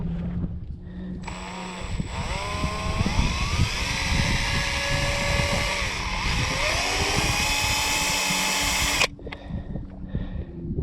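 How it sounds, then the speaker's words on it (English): A power drill grinds into a stainless steel bolt with a loud, strained whine that shifts pitch as the bit bites, running steadily for about eight seconds before cutting off to a quieter background. "you know what's really hard to drill? Stainless steel bolt."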